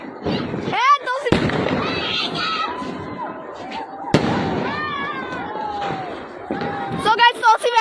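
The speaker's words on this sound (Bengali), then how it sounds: "so guys আতশবাজি ফুটাইতেছে" Fireworks go off on New Year's Eve with sharp cracking bangs and whistling bursts, close and loud, while people talk and shout excitedly over them.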